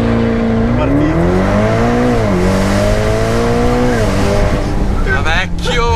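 A Ferrari launches hard from a standstill in first gear under launch control, engine note climbing steadily in a loud, close, continuous wail through the whole stretch, with tyre noise underneath and a brief dip near the end.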